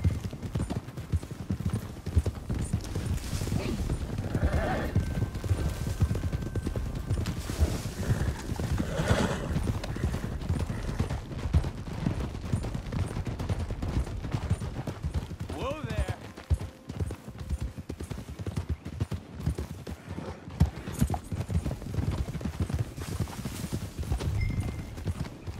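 Horses in the Red Dead Redemption 2 game near Hanging Dog Ranch: steady clip-clop of hooves trotting over ground, with a few neighs and whinnies breaking through. Voices talk intermittently over the moving hoofbeats.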